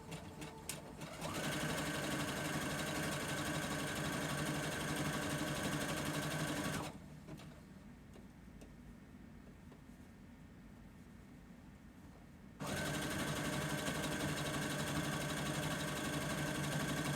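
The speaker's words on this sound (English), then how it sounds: "Why can't you be happy for me, sewing machine?" A sewing machine stitching a dress lining whirs steadily at close range, pauses for several seconds, then starts up again and keeps running.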